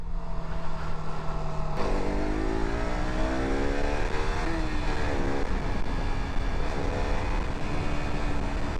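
A sport motorcycle, Yamaha R15 or KTM RC 200, rides through Kaybiang Tunnel, its engine note rising and shifting through gears with echoing tunnel reverberation and steady loud rushing wind throughout.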